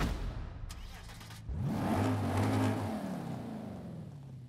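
A 2020 Lexus RC F Track Edition engine starts in Forza Horizon 5, a short crank followed by a rising, steady idle rumble that holds and then settles.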